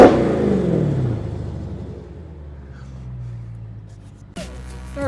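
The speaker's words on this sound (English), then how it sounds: "my son has insisted that I rev the vehicle" A Dodge Charger engine revs hard once, a loud roar that sinks into a low idle rumble, then another engine sound cuts in near the end.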